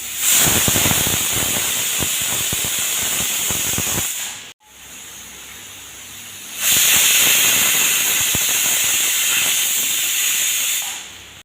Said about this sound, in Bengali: প্রেশার কুকারে ঢাকা দিয়ে দিচ্ছি দুটো সিটি উঠবে